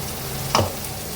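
Onion frying in a pan while cooking pointed gourd bharta: one quick stir scrape with a burst of sizzle over a steady low frying hiss, close and alone.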